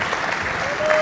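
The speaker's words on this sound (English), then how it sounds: "Round of applause for Douglas and Pangburn Philosophy for putting this on." An audience claps at the close of a philosophy Q&A event, a short, loud burst of dense applause filling the hall. A voice speaks faintly through it.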